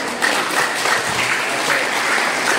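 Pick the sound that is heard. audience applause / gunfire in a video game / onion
audience applause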